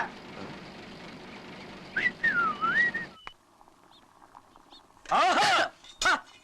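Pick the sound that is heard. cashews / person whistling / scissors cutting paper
person whistling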